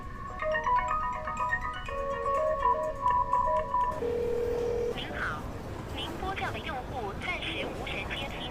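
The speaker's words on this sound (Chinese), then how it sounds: "怎么手机都不接啊？" A mobile phone call rings out unanswered, with repeated electronic ringback tones and melodic beeps for several seconds, then a shift to other noise and faint voices.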